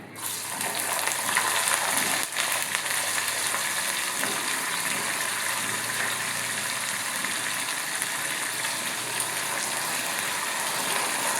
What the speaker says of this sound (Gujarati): પછી તેમાં ઝીણા સમારેલા બટેટા ઉમેરીએ.